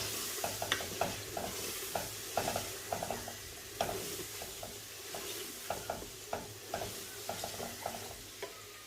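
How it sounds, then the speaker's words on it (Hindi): Ginger garlic paste frying with soya chunks in a pan, a soft steady sizzle punctuated by regular scraping knocks of a spoon stirring, fairly quiet and close, with no talking. "अच्छे से इसको भी भून लेना है, जिंजर गार्लिक का पेस्ट को भी"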